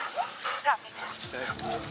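A police K9 dog lets out a couple of short yips and soft whimpers near the microphone, with faint background noise between the brief canine sounds.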